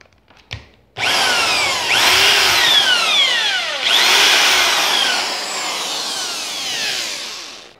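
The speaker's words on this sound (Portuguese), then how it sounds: "Agora vamos passar uma broca maior." A power drill fitted with a larger bit bores into a GoPro Hero 4 waterproof case, loud and close, with a steady whine that rises and falls in pitch across several pushes after a short tap at the start.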